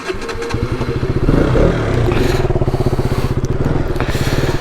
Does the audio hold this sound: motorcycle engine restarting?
yes